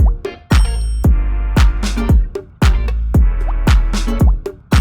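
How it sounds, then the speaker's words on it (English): A punchy synth rhythm from a Prophet 5 synthesizer paired with a clavinet, sharp plucky offbeat stabs repeating over a steady low bass, dense and loud, with no voices. "paired a Prophet 5 with his clavinet to create another offbeat rhythm"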